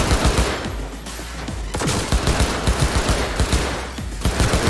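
Rapid automatic gunfire from a weapon in Cyberpunk 2077 on PS5, loud bursts of closely spaced shots rattling almost continuously with brief pauses between volleys.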